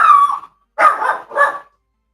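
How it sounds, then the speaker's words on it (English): A dog barking loudly and close by, three separate barks with brief silences between them, somewhat howl-like and yippy in tone, heard on its own without voices. "It's my dog."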